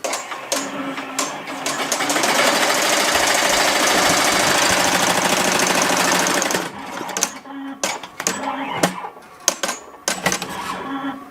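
A Melco Bravo embroidery machine stitches a patch, its rapid mechanical needle chatter running loud and steady for several seconds before breaking into stop-start bursts and clicks.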